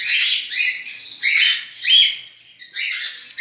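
Chicks of a lutino bird pair call from the nest in bursts of high, raspy chirps and squawks, close and fairly loud, separated by short pauses.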